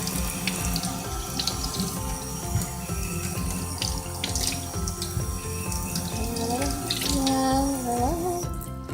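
Potatoes are rinsed in a kitchen sink under a running tap, giving a steady close splash of flowing water with small clatters and shifting gurgles, and no talk over it.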